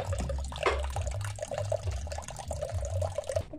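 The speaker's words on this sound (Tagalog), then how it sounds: "Ito na guys, lagyan ko na ng tubig ngayon." Water being poured into a container while preparing a drink, a steady close trickle and splash running continuously with a few small knocks.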